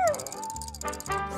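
Cartoon hound dog whimpering, a brief high whine sliding downward followed by short squeaky yips, close and fairly faint.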